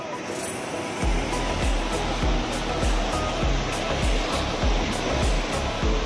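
Broad steady roar of sea waves at Patar Beach in Pangasinan, facing the West Philippine Sea, with surf surges rolling in about every half second to second, loud and close, and no talk over it.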